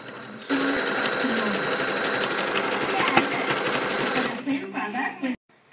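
An electric sewing machine runs fast while stitching plastic trim onto cushion covers. Its needle clatters in a dense, even rhythm close by, then slows and stops near the end, and a voice talks beneath the stitching.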